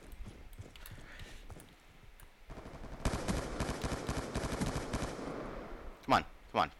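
Rapid pistol shots crack in a dense burst in the Black Ops 2 video game, close and loud, followed by a couple of isolated single shots, with faint background game noise before the burst.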